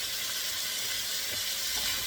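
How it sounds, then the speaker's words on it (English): Steady, bright crackling sizzle of thick-sliced bacon frying in a big pan, close and continuous with no talking. "You hear that sizzling?"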